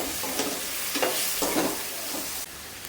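Three medium-sized cut tomatoes frying in a pan with steady stirring, a soft continuous sizzle under scraping spoon strokes at close range, no voices.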